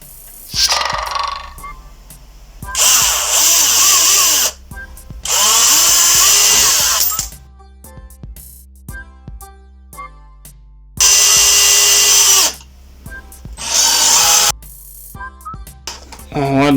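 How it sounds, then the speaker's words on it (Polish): A power screwdriver drives long screws into pressure-impregnated scrap wood in five or so loud whirring bursts of one to two seconds each, separated by quieter gaps with handling noises and a little talk. "Tu już skręcę na te dłuższe wkręty."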